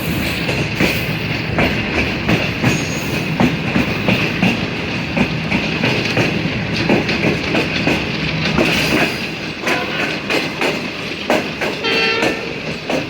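The Shalimar Express rolls through a railway crossing with a loud, steady rumble and a rhythmic clickety-clack of wheels on rails, close and continuous, with no talk.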